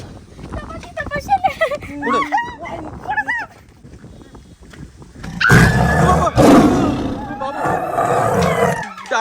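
Voices talk at first, then a leopard's loud, rough growling roars take over for the last few seconds, close and harsh.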